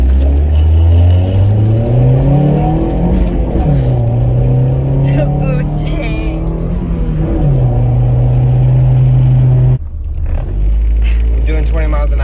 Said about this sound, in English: I'm doing 20 miles an hour and I just started driving